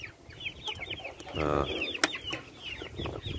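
Chicks and chickens cluck and cheep at morning feeding with grain and water: repeated soft chirps and clucks, a louder burst of clucking in the middle, and one sharp knock, close by with no talk.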